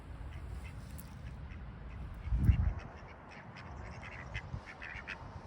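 Ducks quack a few times in the distance on a golf green in Carcassonne against a low outdoor background, with one louder, deeper burst in the middle.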